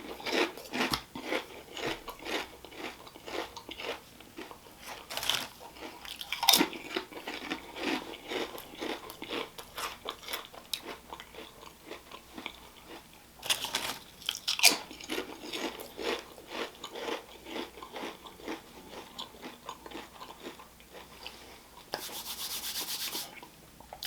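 Flamin' Hot BBQ Ruffles ridged potato chips crunched up close, with repeated loud crisp bites and chewing spread through the stretch in an irregular rhythm, no talking.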